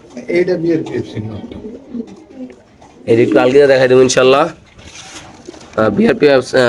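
Racing pigeons coo in low, throaty bursts close by at a pigeon seller's, mixed with someone talking over them.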